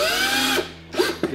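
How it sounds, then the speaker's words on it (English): Hand screwdriver tightening screws on a DIY wooden Viking shield, a brief whirring, grinding turn heard up close followed by a couple of short creaks and clicks. "I'm actually going to tighten them with the hand screwdriver"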